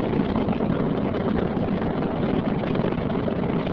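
The Space Shuttle Discovery's three liquid-fuel main engines roar during launch in a dense, continuous rumble, broad and steady, with no voices over it.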